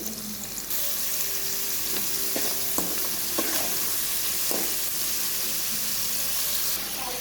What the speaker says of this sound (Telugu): ఆనియన్స్ ఫ్రై చేసినప్పుడే కొంచెం సాల్ట్ వేసుకోండి, వేగుతాయి